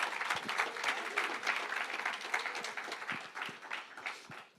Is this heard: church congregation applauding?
yes